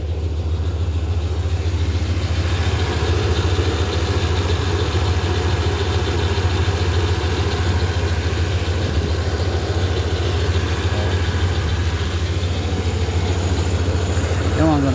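A car engine idles steadily for the whole stretch after a slight distributor timing adjustment, a constant low rumble, close and fairly loud, with no pauses.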